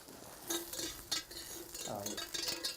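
Mushrooms sizzle as they brown in a hot pan, a steady frying hiss with a few clinks of utensil against metal, while people talk over it.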